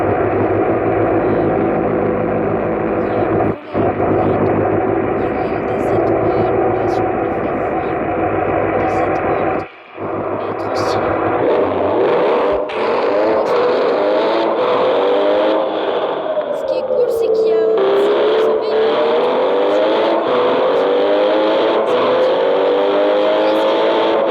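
A car engine in the racing video game Ghost Driver drones loud and steady, with a brief cut near four seconds and another near ten, then the pitch climbs and sweeps as the car accelerates at high speed.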